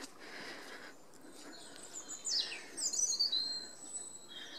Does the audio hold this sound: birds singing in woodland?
yes